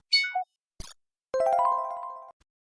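A bright bell ding rings out clearly and sustains for about a second, preceded by a short descending chime and a brief click.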